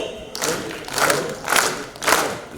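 Audience at the Vivekanand Seva Samman 2026 event clapping together in a steady rhythm, four loud unison bursts about half a second apart after a brief pause, with a murmuring crowd underneath.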